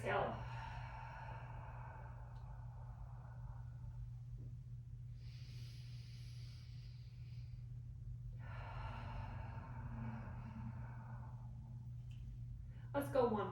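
Deep, slow breaths during a Pilates mat exercise: several long, breathy exhales in steady succession, close and clear over a low constant hum.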